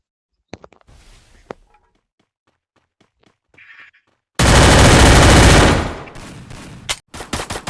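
Gunfire from the Free Fire battle royale game: scattered short shots at first, then a loud, sustained burst of automatic fire lasting about two seconds, followed by a few more sharp bursts.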